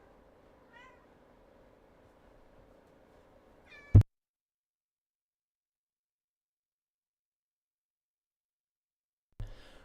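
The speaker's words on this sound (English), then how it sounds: "There's a cat." A cat meows faintly a couple of times in the background of a quiet room, followed by a sharp knock and then silence before a brief thump near the end.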